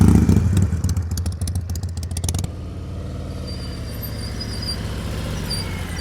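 A motorcycle putters along during slow-speed riding practice, a close rumbling engine with rapid rattling pulses that suddenly drops to a quieter idle, a faint squeal following.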